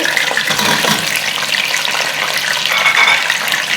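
Chicken and potato pieces hit a pan of frying onions on a lowered flame, giving a steady, loud, close sizzle that holds throughout with no voices.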